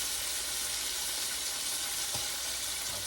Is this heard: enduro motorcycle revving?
no